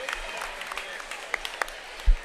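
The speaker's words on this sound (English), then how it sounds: "fans applauding." Fans at a girls' high school basketball playoff game give a brief spatter of applause during a timeout while a commentator talks over it, with a few sharp claps and a thump near the end.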